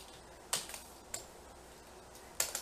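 Sparse keystrokes on a computer keyboard while writing HTML, a few quiet clicks and short bursts of taps separated by pauses, with no talking.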